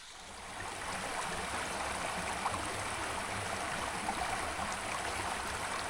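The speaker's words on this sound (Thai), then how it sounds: "แม่น้ำสายน้ำที่ยังคงอุดมสมบูรณ์พี่น้องไหลตลอดปีเนาะ" A river stream flows through a cold highland mountain village near the Laos–Vietnam border, giving a steady, close, continuous rush of water with no voices.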